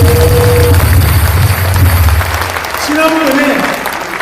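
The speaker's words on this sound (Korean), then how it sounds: "여러분, 우리 목사님께 큰 박수 부탁드립니다" A crowd at a political rally claps loudly for a pastor, a dense, continuous applause mixed with low crowd noise and some voices calling out.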